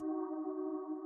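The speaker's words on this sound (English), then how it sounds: "a very interesting layer with this one sort of warping around like this" A warping synth pad layer built from detuned square and saw waves at the same octave holds one steady, wavering tone, faint and alone.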